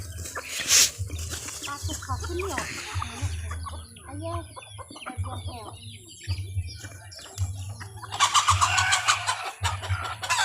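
Domestic hens cluck repeatedly, close by, in a large flock, with a low engine rumbling steadily underneath and a rooster-like call rising near the end.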